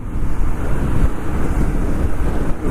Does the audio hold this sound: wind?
yes